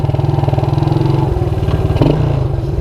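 Suzuki Quadrunner LT230E ATV engine idling close by with a fast, even pulsing chug and light mechanical tapping, a brief throttle blip near the end, no talk.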